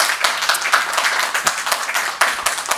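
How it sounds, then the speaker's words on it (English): Applause from the public at a Burbank city council meeting, a dense steady patter of many hands with a few sharper claps standing out, sustained for the whole stretch at moderate loudness. "And I appreciate all the applause."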